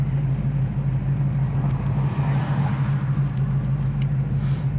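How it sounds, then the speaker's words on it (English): A 1970 Camaro Z28 comes to a stop under braking. A steady low engine rumble and road noise hold close and even throughout, with no distinct brake squeal. "Here's your brakes, no hands on the wheel, stop perfectly straight"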